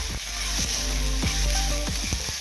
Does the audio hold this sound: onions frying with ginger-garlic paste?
yes